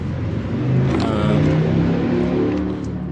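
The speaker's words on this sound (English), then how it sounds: "I'm just gonna start the car now" Ford Transit van engine running and revving after head gasket, EGR cooler and timing chain repair work, a steady loud mechanical drone with rising and falling revs, no talk.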